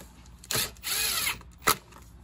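An impact driver sets self-tapping screws into the carburetor of a Troy-Bilt or Craftsman lawn mower, giving a short whirring burst, a longer rattling drive, then a brief final hit, all close and loud.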